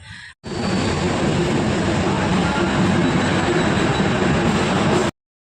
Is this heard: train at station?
yes